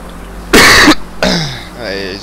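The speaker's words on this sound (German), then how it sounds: "dieser Husten bringt mich noch um" Two harsh, close coughs, one sharp and one rougher with a throaty tail, come from a man playing a game, followed by a brief vocal sound.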